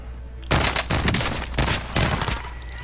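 Video game shootout with a helicopter and hangar, dense loud automatic gunfire erupting in sustained overlapping bursts for most of the few seconds, close and harsh.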